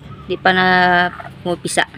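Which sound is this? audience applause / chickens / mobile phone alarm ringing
chickens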